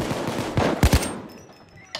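Short automatic gunfire bursts from police in the video game Payday 2, a rapid cluster of loud shots followed by quieter trailing noise.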